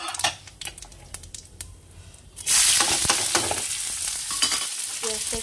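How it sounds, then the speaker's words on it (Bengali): Chopped onion frying and being stirred in hot oil, a loud steady sizzle that jumps in partway through, preceded by quieter scraping and stirring taps. "পেঁয়াজটা একটু ভাজা হয়ে যাক"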